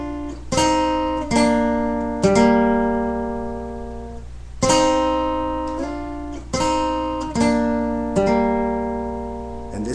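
Slow guitar lick picked on the 4th and 3rd strings, clear plucked notes in small groups with ringing sustain and pauses between phrases, played alone and close up.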